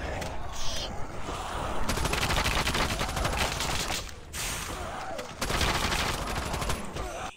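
Sustained gunfire mows down zombies in Call of Duty Mobile's zombie endless mode, fast repeated shots in long bursts with brief breaks, loud and close, with no talking over it.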